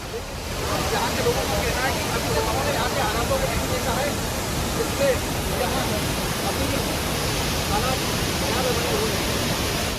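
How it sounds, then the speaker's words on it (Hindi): Flood waves roar and water rushes in a monsoon deluge, a loud, unbroken broadband roar throughout, with a voice talking over it. "कहीं गरजती लहरें तांडव कर रही"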